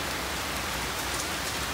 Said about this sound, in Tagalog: Grabe yung lakas ng ulan dito.